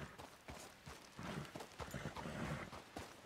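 Hooves of a horse clip-clop in a steady walking rhythm in the video game Red Dead Redemption 2, fairly close, with faint background activity and no talking over it.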